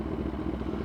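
A CFMOTO 750SR-S motorcycle engine runs steadily up close, a low throaty rumble with a slight mechanical clatter as the bike begins to pull away, with no talk over it.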